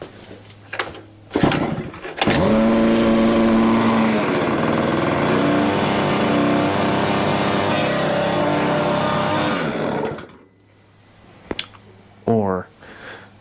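A Coleman Ultimite generator's engine roars loudly for about eight seconds after a couple of startup pulls, then cuts out abruptly, with people talking before and after.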